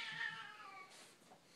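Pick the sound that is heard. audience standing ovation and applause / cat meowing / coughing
cat meowing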